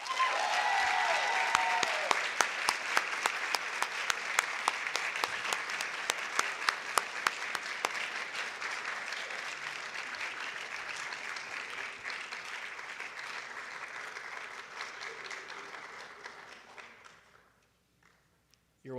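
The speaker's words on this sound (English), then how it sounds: "let's give each one of them a round of applause" Sustained applause from an audience at an awards ceremony honoring a winner, steady dense clapping lasting most of the clip before fading out abruptly near the end.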